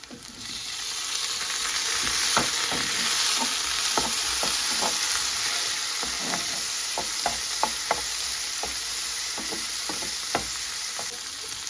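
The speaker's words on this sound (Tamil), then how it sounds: "வெங்காயம் பூடங்கள் இப்படி வதங்கி வர இந்த பதத்தில் நான் தக்காளியை சேர்க்கிறேன்" Onion, garlic and tomato sauté in a pan for a dried anchovy thokku, a steady loud sizzle running throughout with repeated scraping taps of a stirring spoon at irregular intervals, close by and with no talk.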